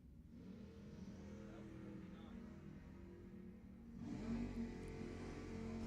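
At a drag strip, a Chevelle and a Mustang accelerate off the line, a distant, muffled engine drone that swells louder partway through, with faint talk in the background.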